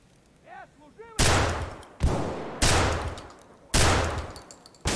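Heavy gunfire in the video game Escape from Tarkov: four loud, booming shots spaced about a second apart, each with a long echoing tail, preceded by a brief voice.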